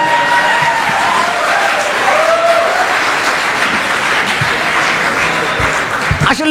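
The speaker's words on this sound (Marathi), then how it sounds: "टाळ्या वाजवा" Audience applause at a comedy kirtan, a dense steady clapping from a live crowd that fills the whole stretch, with faint voices mixed in.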